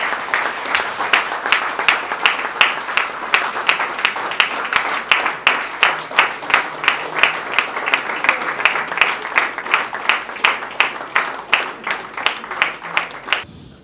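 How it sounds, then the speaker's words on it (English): A crowd claps steadily for a long stretch, with rhythmic, fairly even clapping that carries on without stopping. "to give a very, very great round of applause to Mrs. Magdalene Bolajuku"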